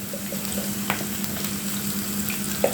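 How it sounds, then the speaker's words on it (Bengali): Ginger-garlic paste fries with onion in oil for a Bengali boal fish curry, a steady close sizzle with a few soft stirring scrapes and no voices. "এবার আদা রসুন বাটাটা পেঁয়াজের সাথে একটু ভেজে নেব।"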